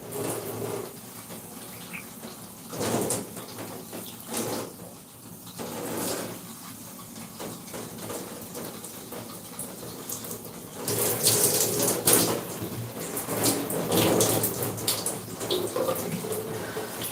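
Tap water runs and splashes while natural hair is rinsed on wash day, a steady hiss of flowing water that swells and eases in bursts, growing louder and gushier toward the end, with no talk.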